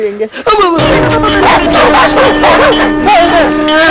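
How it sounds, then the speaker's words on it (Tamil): A dog barks and yips loudly and close by in a Tamil comedy scene, with voices and other sounds layered underneath the barking. "அந்த நாய் என்ன குலைக்குது மிஸ்டர்"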